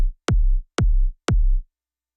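Three punchy electronic dance music kick drum hits sound alone at an even pulse, each a sharp click dropping into a deep, booming low thump that decays quickly.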